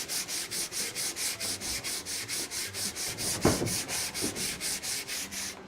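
Wood furniture being hand-sanded with 100-grit sandpaper, a steady rhythmic rasp of back-and-forth strokes, close and loud, with one sharper knock partway through.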